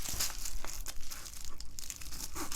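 Paper and plastic shipping materials are trimmed down for a journal cover, giving close, irregular crinkling and crunching with short tearing rasps and no talk.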